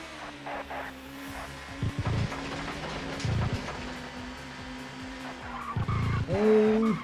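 A touring race car in the ToCA Touring Car Championship video game at Knockhill, heard as a droning engine with repeated skids and tire squeal bursts, then a final louder screech as the car spins.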